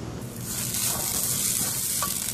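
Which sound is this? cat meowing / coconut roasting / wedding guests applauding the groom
coconut roasting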